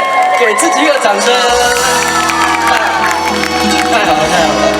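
An audience at an outdoor evening arts concert in Xinwu, Taoyuan cheers, whoops and applauds loudly after a Taiwanese singer's song, with shouts rising from the crowd throughout.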